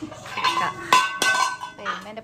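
Metal pots and vessels being picked up and handled in a home kitchen in Kerala, giving a few close clanks and clinks with scraping between them, loud and near, with no talk over them.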